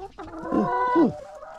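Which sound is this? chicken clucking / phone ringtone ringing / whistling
chicken clucking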